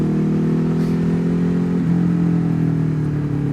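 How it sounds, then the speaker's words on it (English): A motorcycle exhaust drones steadily and close during an uphill ride through Wales, its engine tone dipping slightly partway through, with no talking. "all I can hear is your exhaust"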